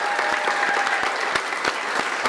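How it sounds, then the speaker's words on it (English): Steady applause from a group, dense clapping that continues evenly throughout. "Well, can we give Doug another round of applause from the entire team?"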